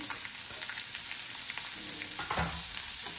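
Red chillies and finely chopped onion, added after curry leaves, fry in a hot pan of oil with a steady, close sizzle and occasional stirring scrapes, with no talking throughout.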